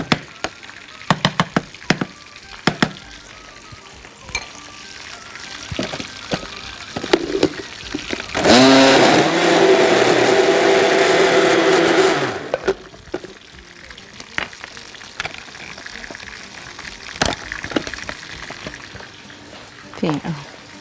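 A blender whirs through a cinnamon biscuit milkshake with ice cream in a steady, loud burst of about four seconds, set among scattered kitchen clatter and knocks.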